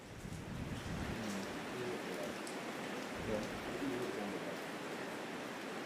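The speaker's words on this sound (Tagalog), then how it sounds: "Mas lumakas na rin ang pag-ulan." Heavy rain from Typhoon Nando at night in Santa Ana, Cagayan, a steady dense hiss of downpour with no pauses, loud and close throughout.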